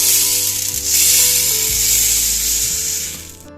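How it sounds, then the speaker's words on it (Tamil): Ingredients for mundhiri kothu dry-roasting in a kadai, a steady close sizzle and rasp of stirring with scraping and rubbing against the pan and a low hum underneath, with no talking. "கைவிடாமல் நல்லா ஒன்போல வறுத்து எடுத்துக்கோங்க"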